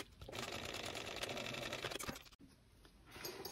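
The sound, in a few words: sewing machine stitching a short edge of cork fabric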